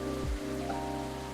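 Steady rain falls in the café video game Coffee Talk, a soft even hiss under quiet background music, with no voices.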